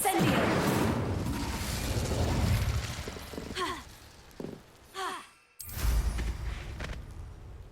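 Incendio fire spell cast in Hogwarts Legacy: a broad whooshing burst of flame up front that trails into game noise, with a few brief swooping tones and a short gap near the end before the sound returns.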